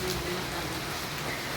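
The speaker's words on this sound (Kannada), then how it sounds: "ಇವಾಗ ಫುಲ್ಲು ಮಳೆ ಬರಕತ್ತೈತಿ." Heavy rain pouring in a village, a dense, continuous hiss of drops striking surfaces, steady and close with no talking.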